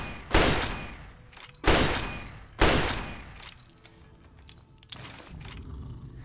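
Pistol shots ring out at a shooting range in Fallout 3: three loud, evenly spaced booming shots, each with a long decaying tail, followed by quieter, smaller pops.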